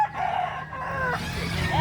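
A native rooster crows once with a drawn-out, wavering call over a busy outdoor background in Calumpit, with faint voices nearby.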